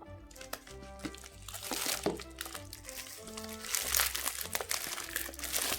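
Plastic parcel wrap around an Android TV box ordered from Alibaba, already slit open, crinkles and crunches loudly as it is pulled apart. Busy, irregular rustling with sharp cracks runs throughout at close range, with no talking.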